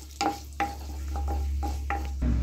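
Bay leaves dropped into hot ghee and white oil in a pan, giving a steady close sizzle broken by several sharp stirring scrapes and clicks.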